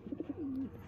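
Pigeons in a pair offered for sale give a few short soft coos and then one long drawn-out coo, close by and with no voices.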